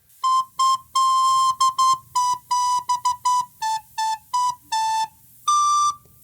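Recorder playing the second line of an easy Christmas melody: a string of clear, bright single notes, several repeated in quick succession, close and loud with short gaps between them and no talking.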